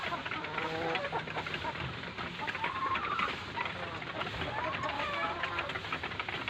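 Chickens clucking and squawking in a busy flock as eggs are gathered after feeding, a continuous close chorus of overlapping calls, with a person's voice in the mix.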